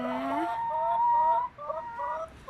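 Chickens cluck and call in a short, close burst of warbling fowl sounds with no talking.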